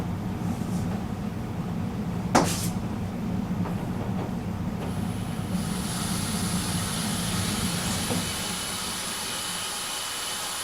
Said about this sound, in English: Definitely hearing some, could be the refrigeration unit.